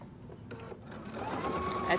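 A sewing machine runs along a market bag seam, starting up partway through and building into a short, close burst of stitching with faint talk around it.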